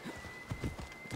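Horse hooves clip-clopping in the video game Assassin's Creed Odyssey, a quick uneven run of soft hoof thuds, fairly quiet and close, with no talk over them.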